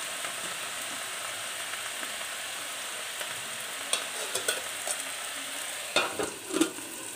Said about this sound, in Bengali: এভাবে নেড়ে চেড়ে মিশিয়ে নিতে হবে